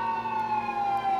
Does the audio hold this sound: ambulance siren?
yes